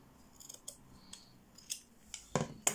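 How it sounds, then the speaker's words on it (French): Small scissors cut close by in lace for a handmade card, giving several quiet snips and crunches with short pauses between them. The final cuts are the sharpest. "c'est très dur à couper avec les petits ciseaux"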